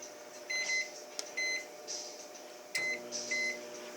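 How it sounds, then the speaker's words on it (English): A microwave oven runs steadily while melting a bowl of frozen butter, its low hum joined by repeated electronic beep-like tones and a couple of sharp clicks. "I'm going to put it in a bowl and I'm going to microwave it."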